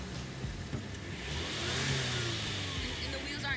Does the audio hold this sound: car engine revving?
yes